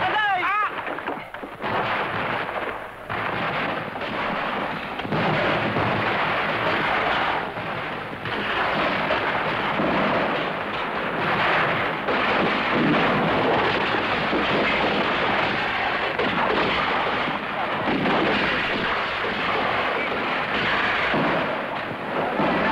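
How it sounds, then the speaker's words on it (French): Artillery fire from both sides across an 1859 battlefield at Solferino under a stormy sky, a continuous loud rumbling barrage of booms and blasts filling the whole stretch. "l'artillerie des deux camps écrase le champ de bataille"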